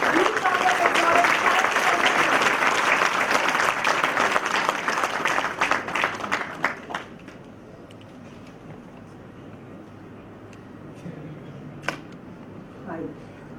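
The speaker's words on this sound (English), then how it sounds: "Give her a big round of applause." An audience at a college convocation ceremony claps loudly for several seconds, the applause tapering into scattered claps and then a quiet hall with a few faint knocks.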